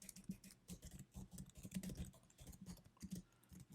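Steady typing of code on a computer keyboard, a quick irregular patter of soft key clicks, close but faint, with no talk.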